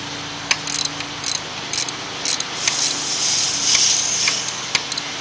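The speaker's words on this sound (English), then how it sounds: "It's still going to have some vacuum, so that's what that hissing noise was." A steady, airy hiss swells and fades as leftover vacuum escapes from an empty AC line on an OBS Ford pickup, with scattered clicks and taps close by.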